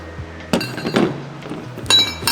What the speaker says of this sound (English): Here are the new spacers for the front.